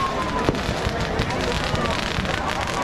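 Fireworks crackle and pop in dense bursts at an outdoor Ravan Dahan celebration in Jodhpur, with sharp bangs over a noisy crowd and talk mixed in.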